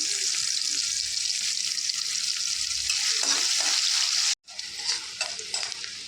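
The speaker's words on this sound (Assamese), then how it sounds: "এতিয়া পিঁয়াজ ভাজি ল'ম।" Onions sizzle and crackle in a hot pan, with occasional stirring scrapes and a brief break before the frying resumes.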